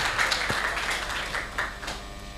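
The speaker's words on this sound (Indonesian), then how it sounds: "Boleh tepuk tangannya untuk teman-temannya Jazil." An audience at a film screening event claps for a group of friends, giving a steady patter of hands with a few sharper individual claps standing out and no talk over it.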